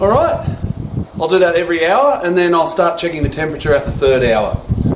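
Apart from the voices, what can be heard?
No everyday noises stand out.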